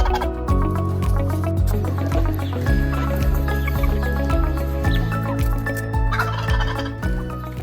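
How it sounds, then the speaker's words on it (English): Turkeys roaming open farm pastures gobble repeatedly over a dense, layered background, their calls rising and falling in loud bursts throughout. "turkeys are allowed to roam freely in open pastures"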